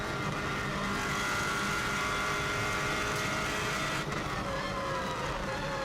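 A 2016 Subaru WRX STI runs flat out on the Isle of Man TT road course, its engine droning loud and steady from inside the car, with road and wind roar and no talk.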